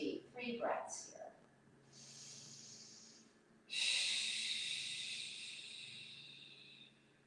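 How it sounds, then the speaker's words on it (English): A slow, deep yoga breath: a soft airy inhale followed by a longer, louder hissing exhale that gradually fades, heard close up after a brief spoken instruction. "And breathe deep."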